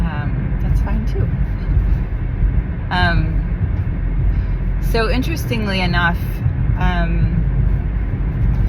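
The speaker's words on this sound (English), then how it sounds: "the rumbling in the background and the sounds inside the car" Steady low road rumble inside a moving car, constant and fairly loud throughout, with a person talking over it.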